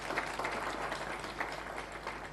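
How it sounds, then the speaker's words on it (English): Steady applause from the audience at a university graduation ceremony, a dense continuous patter of many hands clapping at moderate distance, fairly faint. "Give him another round of applause, please."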